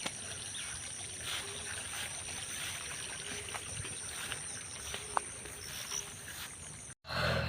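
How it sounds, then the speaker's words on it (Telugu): Water pours steadily from a farm motor's pipe into a field, a continuous close rushing wash that drops out briefly near the end. "ఇక్కడ నీళ్ళు అయితే పడుతూ ఉన్నాయండి."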